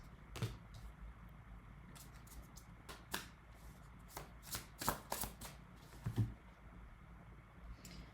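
Tarot cards are shuffled and drawn during a card reading, giving quiet, scattered riffling snaps and soft slaps at irregular intervals against near silence.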